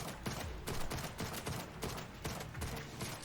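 Rifle shots ring out in the video game Ashfall, a rapid series of sharp, evenly spaced reports, loud and close, with little else between them.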